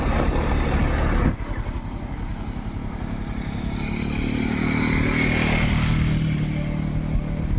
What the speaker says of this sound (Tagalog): Yung ngang motor hindi makaahon Ayun, hirap na hirap grabe